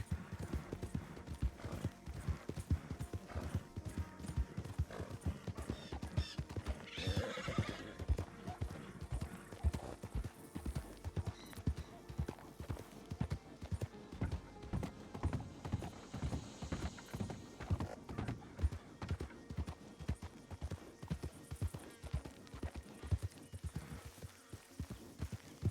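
Horses in the Western role-play game RedM, hooves clip-clopping in a steady rhythmic gait for a long stretch, with occasional neighs and whinnies rising above, moderately near and heard alone.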